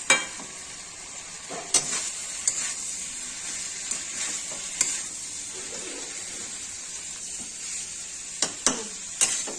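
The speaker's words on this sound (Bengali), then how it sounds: "এবার ভেজে রাখা ফুলকপি ছেড়ে দিলাম" Fried cauliflower added to a pan of spiced potatoes and soybean chunks, sizzling steadily while being stirred, with faint continuous hiss punctuated by occasional sharp clicks of a spatula against the pan.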